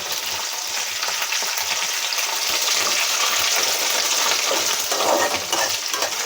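Green chillies and pepper fry in a pan with a steady, dense hiss of sizzling oil, continuous and close throughout.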